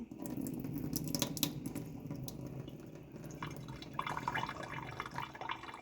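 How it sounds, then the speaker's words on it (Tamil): Water trickles and drips into a sink as it drains from an opened can, a thin pouring stream with scattered splashy drops, close by and fairly quiet. "இதுக்குள்ளே இந்த தண்ணியை முதல் வடிக்கணும்"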